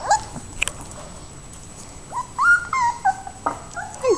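Several small Alaskan Malamute puppies whimper and squeak in short, high-pitched cries, close by, with soft rustling between the calls.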